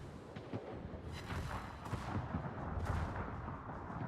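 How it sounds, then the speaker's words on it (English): Torpedo hits in a naval warship video game land as dull, rumbling booms over a continuous low battle roar, with a few heavier blasts rising out of the noise. "Oh, look, a torpedo hit."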